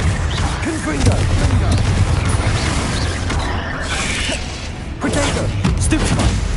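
Confringo, a fire blast spell cast in the video game Hogwarts Legacy, crackling and booming through a busy fight with repeated bursts and mechanical clatter, steady and loud throughout with a brief dip in the middle.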